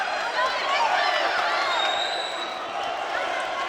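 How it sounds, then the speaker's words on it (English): Boxing crowd at York Hall during a WBC Silver title fight, a loud continuous roar of cheering and shouting voices, with sharp whistles cutting through, near and sustained. "the crowd are on fire here at York Hall"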